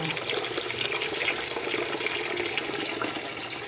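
Steady rushing water poured continuously into a pot of chicken for tinola, a constant splashing hiss lasting the whole time with no voices.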